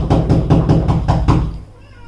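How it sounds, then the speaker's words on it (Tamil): Knocking on a door in a rapid series of about seven firm raps, close and loud, ending abruptly with a faint tail of room noise. "ஆனந்தி எவ்வளவு நேரம் கதை தட்டிட்டே இருக்கேன்."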